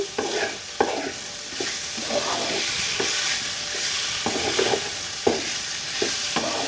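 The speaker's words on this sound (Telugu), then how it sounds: "ఇప్పుడైతే అంతా బాగా కలిసిపోయేలాగా మొత్తం అయితే తిప్పేసుకోవాలండి" A spoon stirs amaranth-leaf veg liver fry in a hot pan, a run of scraping strokes every second or so over a constant soft sizzle, close and moderately quiet.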